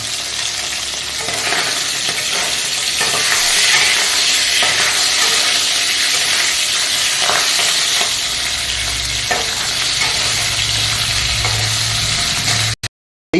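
Pieces of hilsa fish head fry lightly in hot oil with a steady, loud sizzle and crackle that runs throughout, scraped and stirred now and then before cutting off abruptly at the end.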